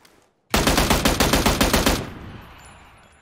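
Automatic gunfire in PUBG, a sustained loud burst of about fifteen rapid shots lasting roughly a second and a half, followed by a fading echoing tail.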